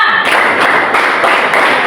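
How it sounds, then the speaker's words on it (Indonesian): A schoolroom class claps in a counted classroom clapping routine, sharp group claps falling in a quick uneven rhythm, several distinct beats, close and loud. "Tepuk 1, tepuk 2, tepuk 3, tepuk 4, tepuk 5."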